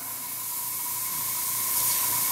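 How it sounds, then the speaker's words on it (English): Badger Patriot 105 airbrush, a large needle and nozzle setup, spraying a fine detail line: a steady, close hiss of air with a faint constant tone that swells slightly toward the end, with no talking. "it would spray a line like this"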